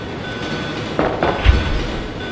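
Rumble of a train running in the Resident Evil video game, a steady low clatter with a few metallic knocks and a heavier thud midway, no voices.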